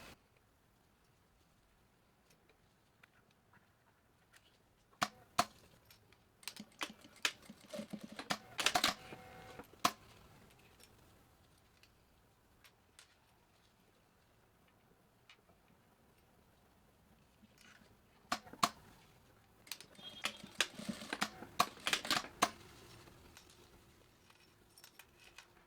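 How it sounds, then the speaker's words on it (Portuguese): A sewing machine stitches a zippered fabric pouch in two bursts of rapid mechanical clicking, separated by a quiet pause, close and moderately loud. "repetir o mesmo processo de costurar com 1 centímetro de margem"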